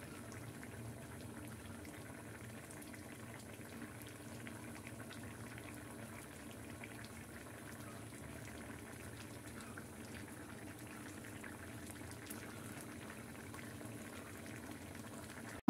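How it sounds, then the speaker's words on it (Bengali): Katla fish curry with flat beans and potatoes boils in a pot with a soft, continuous bubbling simmer, faint and even throughout, with no talk. "আমি এখন ভালো করে মাছটা দিয়ে কিছুক্ষণ বলক উঠিয়ে নেব"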